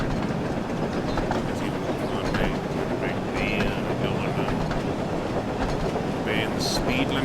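Thomas the Tank Engine runs along the track in Wonders of Sodor, a continuous rumbling rail sound with rhythmic clatter at steady loudness, with someone talking over it.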